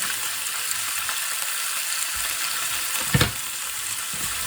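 Liver and bacon sizzle in a hot pan with onion, producing a dense, steady crackling hiss that stays loud throughout, with one brief clatter of a utensil near the end.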